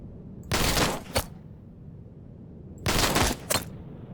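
Gunfire at an enemy in the video game Heart of the Machine arrives in two short, loud bursts a couple of seconds apart, each followed by a single sharp shot, over near silence.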